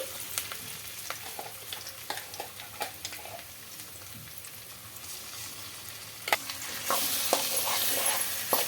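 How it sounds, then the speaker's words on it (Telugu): Steady sizzling of ground drumstick-leaf chutney frying in a pan, with repeated scraping and clinking as it is stirred; the sizzle grows louder and brighter toward the end. "పచ్చడి వేసి బాగా కలుపుకుందాం."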